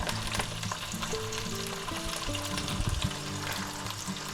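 Already-cooked ham browns in a frying pan with a steady, close sizzle and crackle, bright spattering over a low kitchen hum, with a few faint tonal scrapes running through it.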